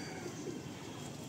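Andhra pigeons coo softly in a brief, quiet stretch, their low murmuring calls alone with no talking.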